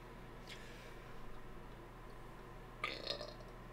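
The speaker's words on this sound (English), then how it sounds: "that was a killer burp." A person lets out a short burp at close range after a few quiet seconds, with a brief second gulp-like burst right after it over a low steady background hum.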